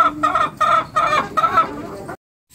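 Chickens kept indoors in a backyard coop cluck in a close, busy run of overlapping calls, broken into short bursts before falling silent near the end.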